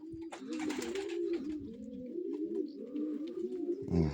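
Racing pigeons cooing steadily at close range, a continuous layered run of throaty coos with no voices over them.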